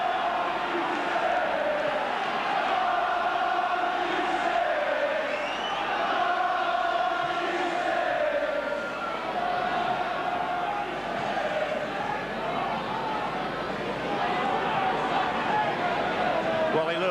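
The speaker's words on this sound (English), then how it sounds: "the crowd roar" A big stadium crowd at a rugby league match between St Helens and Australia roars continuously and loudly, a dense sustained wall of cheering with no breaks.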